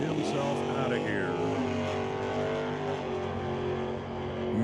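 A stock-class drag car at an NHRA Northwest National Open Series Super Stock race, its engine roaring loudly and steadily through a launch run under an echoing announcer's voice.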